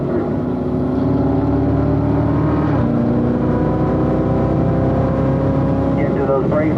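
A car accelerates hard along the front straight of a race track, its engine droning loud and steady with rising pitch and a gear change partway through. A driver talks over the engine.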